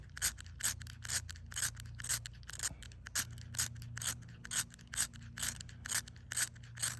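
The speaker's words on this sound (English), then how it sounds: "I've been sitting there scraping or running the wheel on the lighter for a while now, on top of this plastic" A lighter's flint wheel is scraped repeatedly across plastic to build up dust, making quiet rhythmic rasping strokes about twice a second, close up and faint with no voices.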